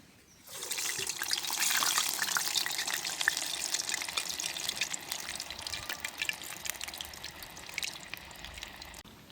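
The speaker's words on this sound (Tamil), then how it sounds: "உங்களுக்கு வடை பொரியுது" Urad dal vadai sputter and crackle as they fry in hot oil, a dense sizzling hiss that starts abruptly and stays loud and close, gradually easing off.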